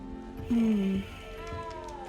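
A single drawn-out cat meow in the video game Hogwarts Legacy, loud and close, lasting about half a second over a quiet background hum.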